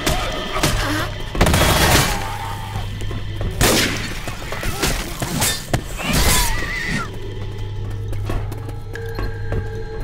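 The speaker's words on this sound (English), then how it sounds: "A machine gun?" Machine gun fire in the zombie shooter Left 4 Dead 2, with several loud, sharp bursts of rapid shots breaking through a busy background of game sounds.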